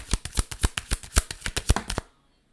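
A tarot deck is shuffled in a rapid, close flurry of papery riffling snaps for about two seconds, then stops abruptly and falls silent.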